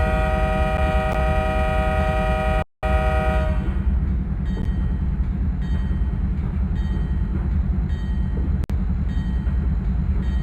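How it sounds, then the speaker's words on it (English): A train in a video game rolls steadily along the tracks with a continuous heavy rumble, a sustained horn blast at the start, and a couple of abrupt cuts in the sound. "to get this train back on track and rolling down the tracks with style again"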